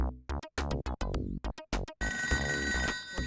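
A telephone rings in the Toejam & Earl video game with rapid, repeated electronic trill bursts, followed by a sustained tonal ring over game music.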